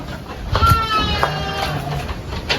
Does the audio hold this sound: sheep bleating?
yes